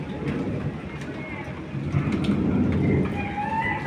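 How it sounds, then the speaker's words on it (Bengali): Steady rain hisses throughout, with a deep rolling rumble of thunder swelling midway and lingering underneath. "দেখুন মেঘে ডাকতেছে।"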